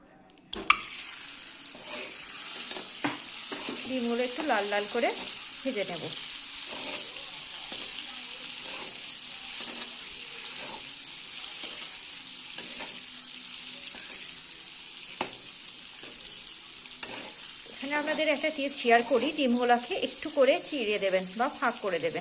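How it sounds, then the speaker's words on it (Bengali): Eggs fry in a pan of hot oil, a continuous loud sizzle broken by repeated stirring scrapes, growing busier and more crackly toward the end; a voice talks intermittently beneath. "এটাকে মিশিয়ে নেব এরপর ডিমগুলোকে দিয়ে দেবো"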